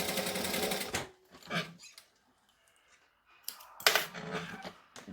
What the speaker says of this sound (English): So I'm going to stitch, back stitch, and then stitch down that side seam.